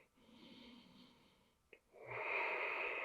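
Breathing during a seated chair exercise: a long, airy exhale, a short sharp sniff, then a louder, rushing breath that fills the rest.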